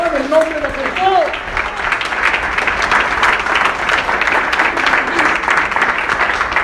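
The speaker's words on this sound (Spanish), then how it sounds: "Si va a aplaudir, aplaudan en el nombre de Jesús." Congregation clapping during a Christian sermon, steady dense applause filling the space, with voices calling out briefly over it at the start.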